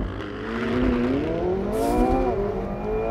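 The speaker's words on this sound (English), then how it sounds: "All I have to do is floor the throttle, boost is building" A 2020 McLaren 720S Spider's turbocharged engine revs hard at full throttle in launch mode and rises in pitch as it accelerates, a loud sustained roar heard from inside the car.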